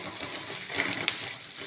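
Water poured into a pan for wheat rava upma, a steady soft gushing splash lasting the whole short stretch, close and fairly quiet with no talk.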